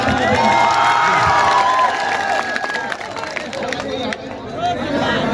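Audience at a poetry recital clapping and cheering, a dense, loud wash of applause and crowd noise with voices and chatter mixed through it, easing slightly partway before continuing.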